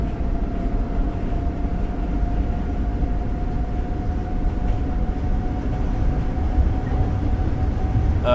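A Long Island Rail Road train in Train Sim World rumbles steadily along, its heavy low drone and faint tonal hum continuous and loud with no voices, close and unbroken from start to finish.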